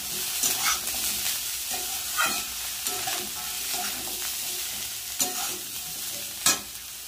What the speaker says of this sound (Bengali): এবার দিয়ে দেব কেটে রাখা কুমড়ো আর বেগুন আর কাঁচা লঙ্কা, আর সব একসাথে ভাজবো।